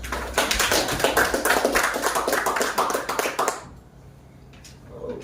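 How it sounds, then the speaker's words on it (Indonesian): A seated audience at an election information session gives a burst of applause, loud and rhythmic at first, then breaking off into quiet room tone. "Kita aplaus untuk itu dulu"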